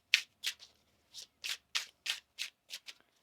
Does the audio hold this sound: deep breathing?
no